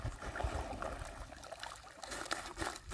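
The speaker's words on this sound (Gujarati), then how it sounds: "રાતની પાણી વારવાની બહુ મજા." Irrigation water runs through a moong field on a cool summer night, making a steady, close trickling and babbling flow that carries on without a break, with no voices over it.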